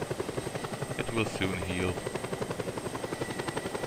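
A damaged-tail helicopter in the video game Just Cause 2 thumps with a steady, fast rotor pulse throughout, close and continuous, while a voice speaks briefly over it.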